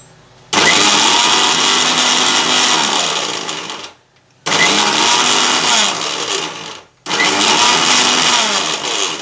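Electric mixer grinder whirring as it grinds dried neem leaves into powder, a loud, harsh motor roar running in three long bursts separated by brief pauses, the pitch shifting slightly as the load changes.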